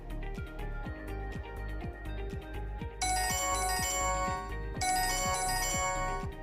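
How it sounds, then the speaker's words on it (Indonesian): A child's phone rings remotely through a Find My Kid tracking app, a repeating ringtone melody that swells louder partway through and keeps cycling steadily, with no talking over it. "Itu adalah suara belnya handphonenya si anak nanti apabila kita menghidupkan"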